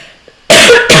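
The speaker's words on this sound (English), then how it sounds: "I had a cough come up out of nowhere." A person gives a single loud, harsh cough in two quick bursts, close to the microphone, after a moment of near silence.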